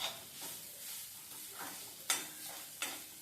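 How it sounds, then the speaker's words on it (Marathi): Masala paste for a home-style brinjal curry is sautéed and stirred in a pan, a soft steady sizzle broken by a few sharper scrapes of the spoon near the end, with no voices. "हे वाटण आपल्याला आता छान असं परतून घ्यायचं आहे परत एकदा"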